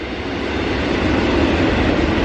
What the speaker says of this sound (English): The train's very loud.